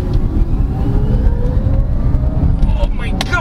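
A 2023 Weltmeister W5 electric car accelerating hard in eco mode gives a rising electric motor whine with steady road and tire rumble heard from inside the cabin, followed by a few sharp clicks near the end.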